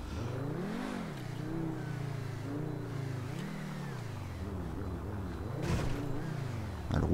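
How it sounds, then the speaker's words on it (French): A Tempesta supercar in GTA 5 accelerates hard, its engine revving up and dropping through repeated gear changes with rising and falling whine, loud and close throughout. "elle accélère fort quand même cette voiture"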